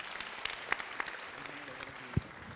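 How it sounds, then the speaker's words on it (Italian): Scattered theater audience clapping, fairly light and steady, with a few sharper individual claps and a low thud. "Un applauso."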